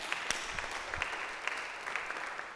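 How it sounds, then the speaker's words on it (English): Attendees at an ACLU town hall in Delaware clap together, a soft, steady patter of many hands with a few sharper individual claps, heard from a short distance with no voices over it. "Give yourselves a round of applause for attending a rally."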